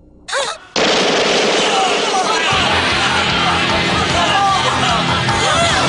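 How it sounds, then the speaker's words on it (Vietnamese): Rapid gunfire in a gun battle scene from the 1991 Hong Kong comedy film God of Gamblers 3, breaking in after a brief sharp noise and continuing as a loud, dense, unbroken clatter with crowd clamor beneath. "Nổ súng."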